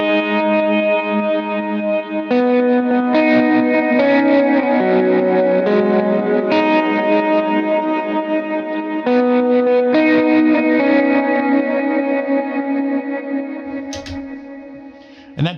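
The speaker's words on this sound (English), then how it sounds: "And with all the effects, that'll sound like this." An electric guitar plays a song's lead line through an effects chain with chorus, distortion and echo, sustaining steady melodic notes and changing chords for about fifteen seconds, loud and continuous, with no talking.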